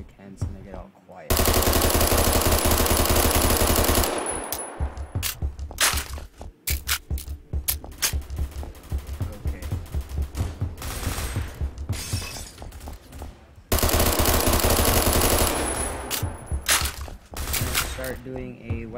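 AUG A1 rifle fire in the video game Phantom Forces: dense bursts of rapid automatic shots crackle loudly in long sustained stretches, broken by short pauses and sharper single reports.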